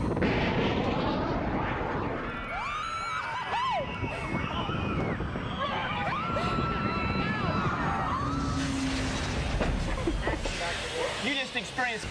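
Space Shot amusement ride launching in a simulated rocket liftoff, a loud continuous rush of machinery with rising and falling whistling tones, voices and screams mixed throughout.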